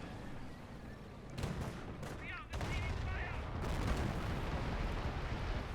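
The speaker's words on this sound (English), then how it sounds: "Calliope barrage now on the 88 and the MG bunker" A Calliope rocket artillery barrage pounds an 88 gun and an MG bunker in Company of Heroes, heard as a loud rumbling run of overlapping blasts and whooshing rockets under excited commentary.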